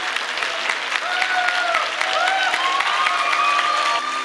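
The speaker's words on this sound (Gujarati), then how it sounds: "સ્ટેન્ડિંગ ઓવેશન એટલે ઊભા થઈને તાળી પાડવું" An audience rises in a standing ovation after a classical dance arangetram performance, with dense, continuous clapping from a full hall and a few high whistles or tones over the applause.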